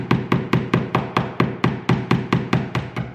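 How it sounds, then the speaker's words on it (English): Sharp, evenly spaced hammer blows driving screws into a wall, about four per second, ring out one after another at close range with no talking. "Why are you hammering the screws in?"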